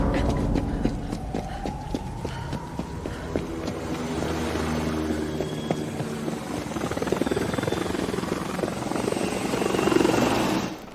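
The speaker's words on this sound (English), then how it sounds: "a drone flew past in the background" A drone whirs past in an AI-generated scene, with a steady buzzing rotor drone that grows fuller and louder toward the end, joined by rhythmic ticking and clopping textures.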